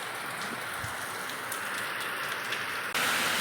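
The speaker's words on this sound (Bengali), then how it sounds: "বৃষ্টি বিশাল জোর বৃষ্টি হচ্ছে" Steady, dense rain pouring down, a continuous broadband hiss of drops hitting surfaces throughout, loud and close, with no voices.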